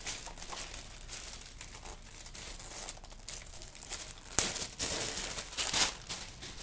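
Soft, steady crinkling and rustling of wrapping material as a packaged black envelope-style clutch is unwrapped, with a few sharper crackling peaks near the end.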